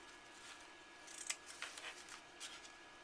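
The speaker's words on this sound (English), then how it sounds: "And my scissors to trim my tails here." A pair of scissors makes a few quiet, close snips trimming ribbon tails at an angle on a handmade paper card, crisp little cuts spread over a few seconds with soft rustling between them.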